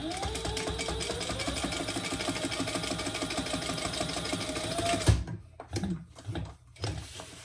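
A sewing machine runs a row of stitching across a convertible crossbody belt bag and phone pouch. A loud, close, continuous mechanical whir lasts about five seconds, then stops, followed by a few handling clicks and knocks.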